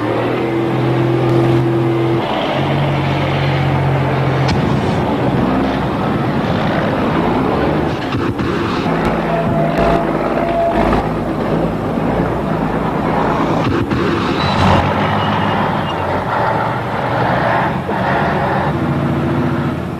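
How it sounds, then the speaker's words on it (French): A 10-tonne, 600-horsepower stunt truck's engine roars loud and close throughout, rising and falling as it revs during acrobatic driving. "Piloter un engin de 10 tonnes qui fait 600 chevaux"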